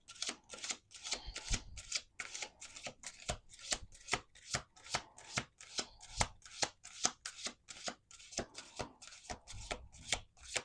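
Repeated riffle shuffles of a deck of playing cards, a rapid run of crisp fluttering clicks in bursts, close up and with no voices.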